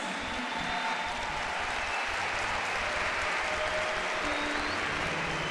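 A congregation at an outdoor Mass during a PHN camp applauds in a long, steady roar of clapping from a large crowd, sustained evenly throughout without breaks.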